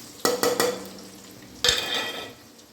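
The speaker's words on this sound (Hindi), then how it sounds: "अभी प्याज को भूनना है गोल्डन ब्राउन होने तक। इसी में मिर्ची भी भून जाएगी।" Onions and chili sizzle gently in a pan while a spoon stirs and knocks against it, a quick cluster of scrapes early and another later, over a steady low frying hiss.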